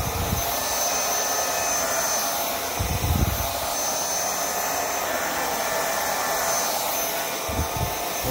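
A Vaclab X11 Pro handheld vacuum cleaner runs with a steady, loud, airy whine that never lets up, with a few low bumps as it works over a small area. No one speaks.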